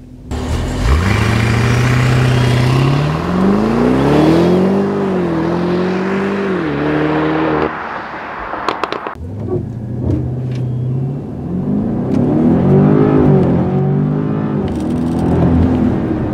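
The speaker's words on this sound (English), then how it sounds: "Let's do a 0 to 60, see what the performance is like. Brake on, first gear." A 2015 BMW Alpina B6 Gran Coupe with all-wheel drive launching from a standstill on a racetrack, its engine roaring up through the revs, a brief dip at a gear change, then pulling hard again, loud and close.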